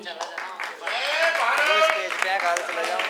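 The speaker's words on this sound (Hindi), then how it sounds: "तालियों की गड़गड़ाहट रोकने नहीं चाहिए।" Applause from the audience at a Hindi speech event, a dense, steady patter of many hands clapping that swells and holds under a speaking voice.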